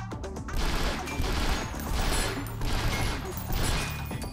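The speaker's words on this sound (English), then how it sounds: "I'm going back to the burst rifle." Repeated gunfire bursts from a burst rifle in the top-down shooter game Synthetik, dense and loud with crashing impacts layered throughout, a steady barrage of shots in quick groups.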